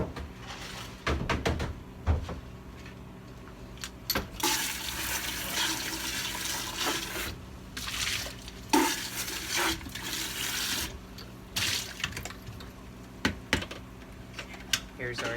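Liquid being dumped and cafe tools rinsed under running water at a chai station, with bursts of splashing and clinking interspersed with quieter moments, close and moderately loud.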